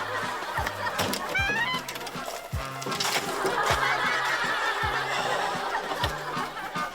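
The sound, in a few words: turkey calling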